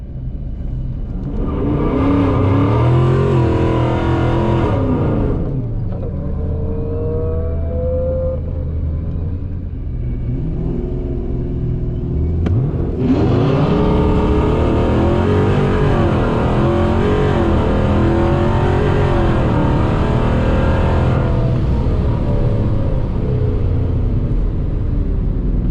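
A ProCharged 5.7 Hemi R/T revs hard and accelerates in a street race, its engine loud and close, surging through rising gear pulls, then easing off for a lull before roaring again on a second long, strong pull.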